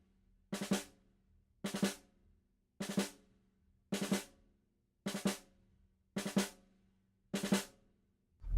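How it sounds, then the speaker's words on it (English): Drum kit snare strokes played as open drag rudiments: seven evenly spaced hits about a second apart, each with audible separate grace notes before the main stroke, close and clear with no talking. "So there I was playing quite open drags there."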